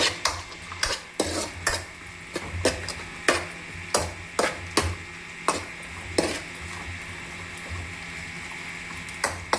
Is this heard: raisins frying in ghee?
yes